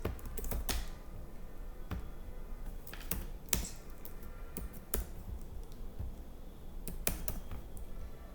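Rapid typing on a computer keyboard while entering test card details at checkout, a steady run of close, crisp key clicks with a few louder strikes, no voices.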